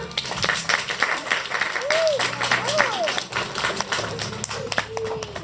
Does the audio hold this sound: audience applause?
yes